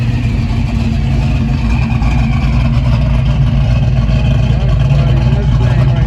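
A supercharged hot rod at a classic car cruise rumbles by with a loud, steady, deep engine drone that persists throughout, and a voice speaks briefly under the noise.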